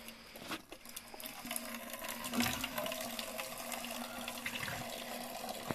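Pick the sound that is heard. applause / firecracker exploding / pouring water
pouring water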